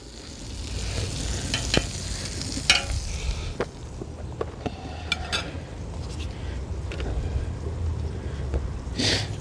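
Butter and a little oil sizzle on a 28-inch Blackstone griddle set to medium-low, a steady close crackle with occasional sharper pops and spatter bursts throughout, no talking.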